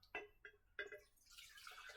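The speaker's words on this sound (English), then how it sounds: "pour my water down in there" Water poured into a mason jar for a Kratky hydroponic pepper setup: a few quick splashes and drips, then a steadier close-up trickle and pour that continues to the end.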